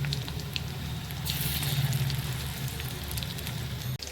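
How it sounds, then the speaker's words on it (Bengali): Shrimp pakoras frying in oil, a steady close crackling sizzle that keeps going without a break and ends in a brief sharp clatter. "এইভাবেই বাকি পকোড়াগুলো আমি ভেজে নেব।"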